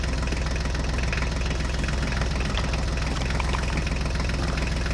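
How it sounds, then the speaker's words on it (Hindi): A tractor engine runs steadily at idle, a loud continuous low rumble with a knocking, vibrating texture that holds even throughout with no voices. "ये देखो बच्चों, ड्राइवर ट्रैक्टर गाड़ी में बैठ गया है।"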